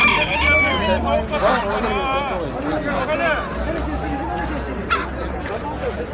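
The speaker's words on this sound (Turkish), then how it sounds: "Burada köylü horozu var çoğunlukla." Several roosters crow over and over at a village poultry market where hens are also sold, their calls rising above a steady babble of people talking nearby.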